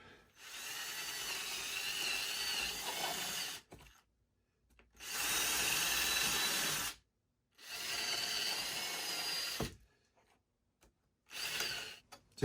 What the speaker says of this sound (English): So I'm going to drill 10 random holes here.